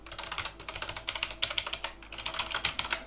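Fingers type quickly on a mechanical keyboard with smooth switches, producing a close, steady stream of crisp clicking keystrokes in short rhythmic runs with no talking.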